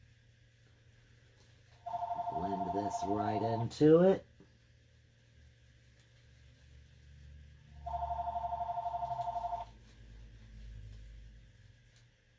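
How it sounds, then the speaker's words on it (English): A telephone rings twice during a watercolor painting session at home: two bursts of steady electronic trilling a few seconds apart, the first overlapping a nearby voice, the second alone over a low background hum. "There goes the phone."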